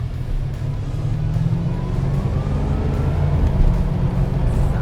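Steady, dense engine rumble from a 1981 Chevrolet Corvette with a three-speed automatic cruising along the road, the drone holding loud and even throughout without clear shift breaks.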